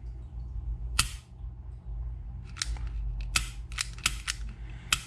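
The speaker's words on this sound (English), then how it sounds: "I can just tell when I hit that firing pin is releasing fully and depressing." A Taurus G2C pistol gives a series of sharp, close mechanical clicks as its firing pin is released: one isolated snap, then a quicker irregular cluster of metallic clicks over a low handling rustle.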